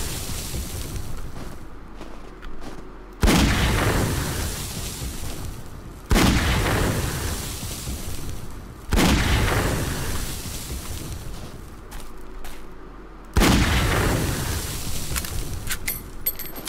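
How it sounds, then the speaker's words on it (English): In 7 Days to Die, Magnum shots set off TNT charges in four loud, deep booms spaced a few seconds apart, each decaying into a rumbling tail. "I'm gonna use Magnum to shoot these TNTs and see how the explosions will be absorbed by these walls."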